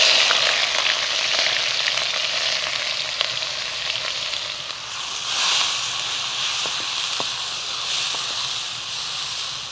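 Onions fry in a chicken karahi over a high flame, a loud continuous sizzling hiss with occasional soft clicks of stirring, close and steady with no talk.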